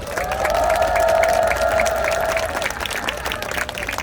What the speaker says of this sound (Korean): 우리 김원필 교수님께 다시 한번 뜨거운 박수 부탁드립니다.